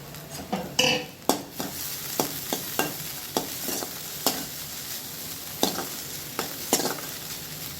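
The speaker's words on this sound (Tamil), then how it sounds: "நம்ம ஊற வச்சுருக்க அவல் இருக்கு இல்லையா, அதை லைட்டாக இதில் வறுத்து எடுத்துக்கலாம்" Soaked poha (flattened rice) frying lightly in ghee, with a steady soft sizzle broken by repeated sharp scrapes and clinks of a spoon stirring against the pan, close and fairly loud, no talking.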